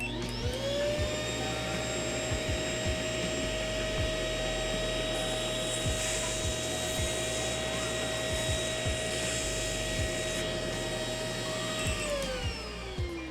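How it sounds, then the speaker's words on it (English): A pet grooming device's vacuum nozzle runs steadily, sucking loose pet hair back into its collection container with a constant motor whine and airflow, close and continuous throughout, with faint clicks and no talking. "And it looks like the vacuum sends the hair back here into this container."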